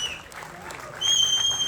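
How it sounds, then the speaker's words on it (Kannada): Applause from an audience at a film teaser launch event swells up partway through, moderately loud, with some voices mixed in. "ದಯವಿಟ್ಟು ಚಪ್ಪಾಳೆ ಪ್ಲೀಸ್"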